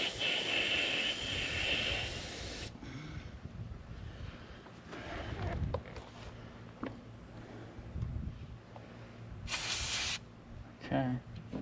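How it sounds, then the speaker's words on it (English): A commercial 3800 PSI pressure washer sprays in bursts, a loud hissing jet for the first few seconds and again briefly later, with quieter handling noises and a voice between bursts. "Spray this out."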